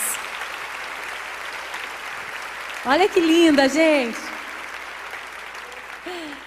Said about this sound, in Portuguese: Recebam com uma salva de palmas essas mulheres fardadas.